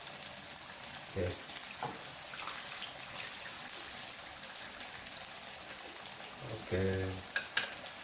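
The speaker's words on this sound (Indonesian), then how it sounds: "lalu kita masukin bumbu-bumbu yang kita giling, lalu kita aduk sama cabenya." Ground spices and chilies sizzle and are stirred in a pan for a Minang fish dish. Steady frying crackles carry throughout, with a few scraping stirs near the start and end, and a voice speaks briefly.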